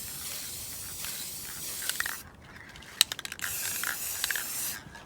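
Aerosol spray paint hissing onto a coffee-and-tea kitchen wall art panel, in steady close bursts with a short pause and a few sharp can clicks and rattles in the middle.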